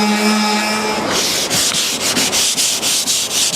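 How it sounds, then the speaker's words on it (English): A power sander whirs steadily on wood, its pad rubbing in a quick rhythmic scrape after a brief motor whine at the start. "I got most of the sanding done on this first one"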